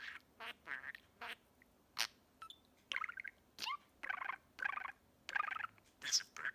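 A budgie chattering and chirping up close, a quick series of short squawky bursts and sharp high chirps separated by brief gaps, with no human voice.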